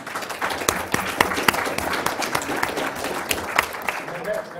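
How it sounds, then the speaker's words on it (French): An audience at a conference session breaks into applause, a dense, steady patter of many hands clapping that fills the room for several seconds. "On peut avoir une bonne main d'applaudissements pour tout le"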